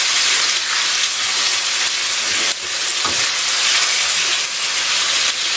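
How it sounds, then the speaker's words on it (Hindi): Chicken pieces fry on high flame with garlic for jalfrezi, giving a loud, continuous close hissing sizzle with a couple of brief stirring bumps and no talk. "अब इसमें आप चिकन डाल दें, और तेज आंच पे इसको भूनें।"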